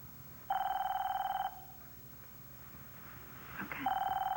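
A telephone rings indoors in two electronic trilling bursts, each about a second long with a pause between them, moderately loud in a quiet room, and no one talks over them.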